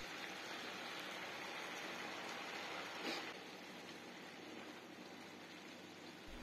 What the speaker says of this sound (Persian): در آخر نصف استکان آب جوش به تابه اضافه میکنم